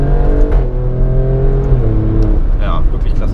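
An Alfa Romeo Stelvio Quadrifoglio, a 510 hp SUV, revs while being driven, its engine note rising and falling in steady tonal sweeps close by, with someone talking over it.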